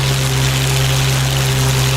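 A noisy aircraft engine in the DCS flight simulator game drones loud and constant, a steady hum with a strong low tone under broadband rushing noise, alone with no talk.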